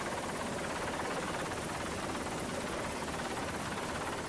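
A US Navy helicopter's rotor thrums steadily and loudly throughout a mine-disposal operation, a continuous dense roar with a fast chopping pulse and no pauses.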